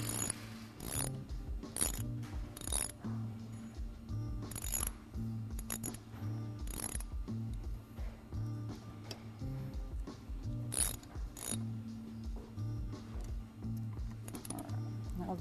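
Brake disc bolts on a bike are tightened with a ratchet, with bursts of close mechanical clicking separated by short pauses over a low background hum.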